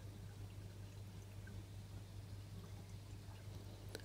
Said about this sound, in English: the exit from the skimmer is just blasting the water straight into it